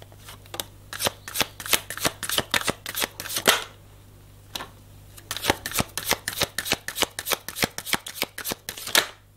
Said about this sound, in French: on va aller voir ce que Michael a à vous dire pour votre tirage aujourd'hui